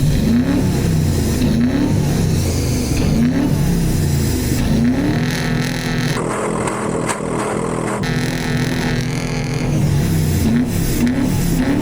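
A worn-out 351 Windsor V8 in a 1996 Ford F-350 revs in neutral, its loud, rough engine note rising and falling in repeated throttle blips that build into a sustained higher rev near the middle before easing back to idle.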